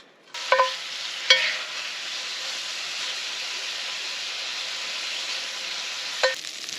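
Cut-up bacon sizzling in a pan over an open fire, a steady loud hiss after a few sharp clanks at the start and one more near the end, with no talking.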